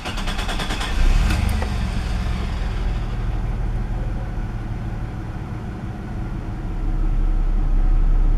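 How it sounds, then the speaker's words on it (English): A car engine with its coolant temperature sensor bypassed by a paper clip resistor idles roughly, a steady low rumble with slight unevenness, close and fairly loud, rising a little toward the end. "And you saw the idling's a little rough now."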